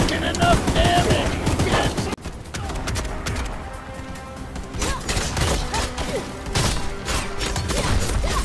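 Sustained bursts from a mounted machine gun in a single-player PC video game, firing in dense rapid rattles over battle clamor, with voices shouting intermittently.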